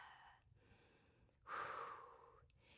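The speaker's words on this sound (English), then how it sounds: "Taking that big exhale." A single strong exhale during a home mat Pilates workout, a soft breathy rush that swells and fades within about a second, close and quiet against a still room.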